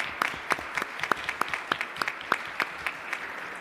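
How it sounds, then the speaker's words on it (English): Light applause from a city council meeting audience recognising a departing colleague, a thin scattering of separate hand claps at an uneven rhythm, fairly quiet and few in number. "give you a round of applause"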